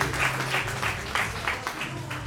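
A church congregation claps together in a steady rhythmic beat, about seven distinct claps over a low hum of the room.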